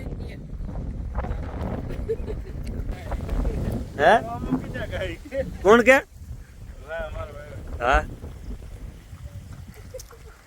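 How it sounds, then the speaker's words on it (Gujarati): Hot wind gusts rumble against the microphone as someone talks outdoors on a farm, with a few louder vocal bursts in the middle. "ગરમ ગરમ પવન વાય હમણાં ત્યાં"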